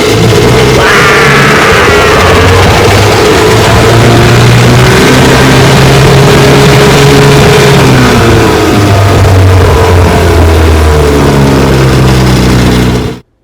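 A restored Johnson QD-15 vintage outboard motor drones steadily while pushing a boat along a bayou, loud and close throughout, with shifting engine pitch and a sudden cutoff at the end.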